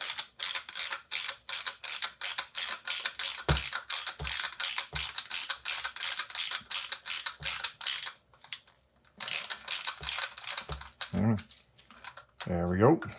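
A part being unthreaded from a Rockshox 35 Silver TK bicycle fork tube with a ratcheting tool, giving rapid, loud, regular clicking bursts, a few short pauses and a couple of softer knocks near the end.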